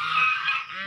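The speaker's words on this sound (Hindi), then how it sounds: "इस तरफ देखिए बड़े बड़े स्वान जो अभी आए" Swans at a park give a loud, nasal honking call, one close sustained blare that wavers and then tails off.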